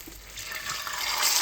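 Fish sizzles in a pan of hot oil, a steady broadband hiss that swells slightly louder toward the end, close and continuous.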